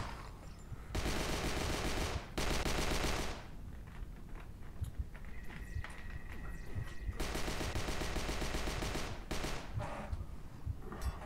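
Loud bursts of rapid automatic gunfire in the VR zombie shooter HordeZ, several sustained volleys separated by short gaps, with a brief electronic tone in between.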